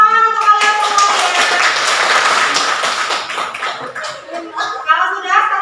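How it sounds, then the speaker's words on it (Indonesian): Students clap their hands in a classroom: a burst of scattered, close clapping under overlapping voices and some laughter, fading out with more talk toward the end. "bantu tepuk tangan untuk kalian semuanya."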